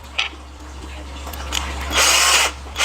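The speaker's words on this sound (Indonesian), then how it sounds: "Jadi siang-siang bisa ngebor dengan listrik gratis ya guys." A solar-powered cordless drill, fitted with a drill bit in place of its screwdriver bit, whirs in two short bursts, the second louder and longer, against a steady low hum, with no talking.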